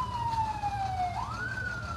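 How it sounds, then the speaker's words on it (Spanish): Emergency vehicle sirens at the scene of a deadly house fire in Tonalá, Mexico, a single wailing tone sliding down then jumping up, moderately distant over low traffic rumble. "Precisamente ya se oyen las sirenas que trasladarán a esta persona."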